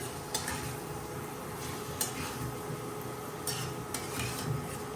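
Eggplant and spices fry in a pan while cooking a rohu fish curry, giving a steady soft sizzle with a few faint clinks of utensils scattered through it.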